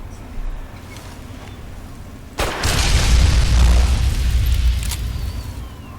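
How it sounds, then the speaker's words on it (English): A flare gun fires with a sudden sharp boom, then a sustained rushing roar that slowly fades over several seconds; no one speaks. "I believe I have a flare gun that I can use to that end."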